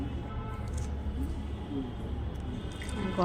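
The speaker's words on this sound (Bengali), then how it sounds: "হালকা করে জল দিয়ে আমি এটাকে ভালো করে ফেটে নেব" Homemade cake batter is beaten by hand with a little water, giving soft, wet squishing and slapping that stays quiet and close, with faint drips.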